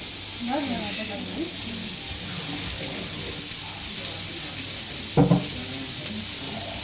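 Carrots tumble into a hot stir-fry pan of green, red and yellow bell peppers for a chicken and vegetable dish, giving a steady close sizzle throughout with a brief sharper burst of crackle near the end, no talking.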